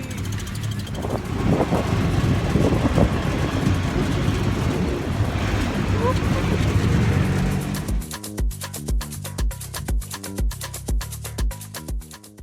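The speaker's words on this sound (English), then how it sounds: "This is an iconic auto rickshaw type taxi found here in Havana." A Coco taxi, Havana's small open auto rickshaw, driving through the city, its engine and road rumble loud and continuous before giving way to rhythmic louder pulses toward the end.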